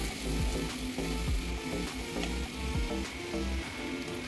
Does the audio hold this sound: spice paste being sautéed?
yes